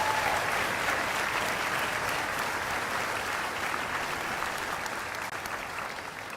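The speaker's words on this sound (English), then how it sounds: "And all the more applause for Melody Zhao, Richmond Hill, Ontario, for being the last professional" A full audience at a veterinary college professional welcome ceremony claps in a thick, even wash of applause that holds steady and tapers only slightly near the end.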